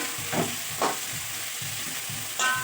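Sliced onions sizzling and frying in a pan for an anchovy (netholi) roast, a steady soft crackle with occasional stirring scrapes, close and moderately quiet with no talk.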